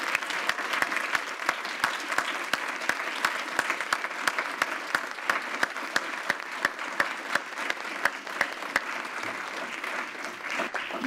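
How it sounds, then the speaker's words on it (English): A board meeting audience applauds students receiving honors: a sustained, even round of clapping from a sizable room, steady and fairly loud from start to finish with sharp individual claps standing out. "Can we give all of these students a round of applause?"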